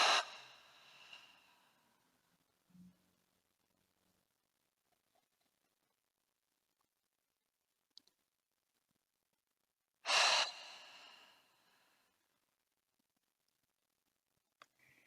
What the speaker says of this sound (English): Take a few open mouth exhales.